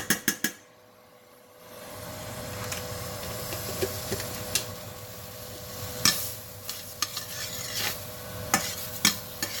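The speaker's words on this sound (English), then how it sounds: "I'm just going to put some butter in the pan." Butter melting in a hot pan before shrimp go in, giving a steady gentle sizzle and hiss with scattered sharp crackles and a few stirring scrapes, heard alone after a brief quiet start.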